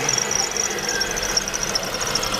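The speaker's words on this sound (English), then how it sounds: "she's got a squeaky belt." A tuned car's engine runs with a squeaky belt: a thin, high squeal wavers on top of a low, steady idle rumble, heard close for a few seconds with no talk.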